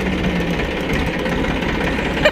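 A tractor engine runs at a steady idle, its low knocking pulse and vibration continuous and close throughout.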